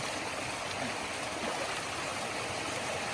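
A stream flows steadily as someone washes their face in its cold water, a close, continuous rushing and splashing wash with no talking.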